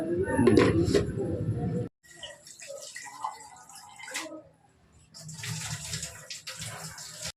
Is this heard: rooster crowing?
no